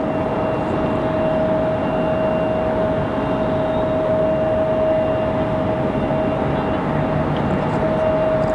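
A United airliner arriving from Chicago at Raleigh-Durham International Airport gives a continuous engine drone with a steady whine tone, heard at even loudness across the clip.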